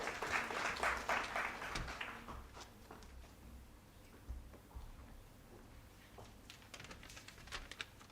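A round of applause from the audience at a stock exchange listing ceremony for a jewellery company, loud at first and then fading to scattered, sparse claps in a quiet room.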